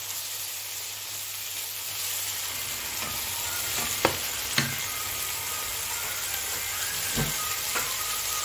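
Chili powder and tomato puree fry in a pan with a constant soft sizzle. A spoon stirs through it, and a handful of sharp utensil clinks stand out.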